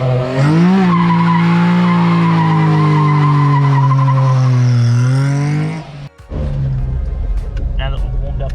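A Honda Life drift car warms its tyres with a long, sustained high tyre squeal layered over a revving engine, loud and close, before it breaks off and engine noise with some talking follows.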